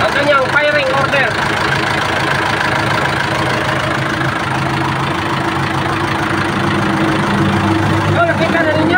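A vehicle engine with four injectors and a 1-3-4 firing order idles steadily and evenly, a loud, close, continuous mechanical rumble throughout.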